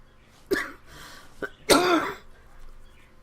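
Two separate coughs, a short sharp one followed by a longer, harsher hacking cough, close up in a quiet room.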